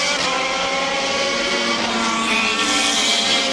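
Onboard sound from the 66 car in an ALMS race at Monterey fills the clip: a loud, sustained engine scream holding high revs and shifting pitch slightly over the final lap, with no speech.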